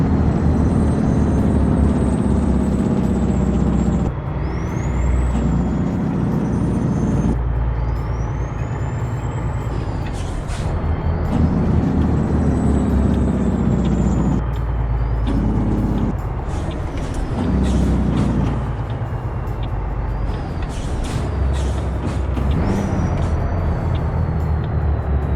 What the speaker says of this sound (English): And we'll go ahead and throw that Jake brake.